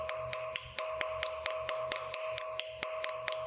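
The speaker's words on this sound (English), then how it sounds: "So I'll peen for a while, test the blade, see how it opens." A small hammer peens the pivot pin of a straight razor with light, evenly spaced metallic taps, roughly five per second, close up over a faint steady hum.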